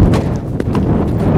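Hooves of a ridden horse clip-clop on the ground, a close, fast run of uneven thuds over about a second and a half.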